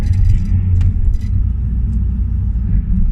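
A 2009 Mitsubishi Lancer diesel engine runs with a steady, loud, deep rumble close by, holding an even level with no distinct rev peaks and no talking.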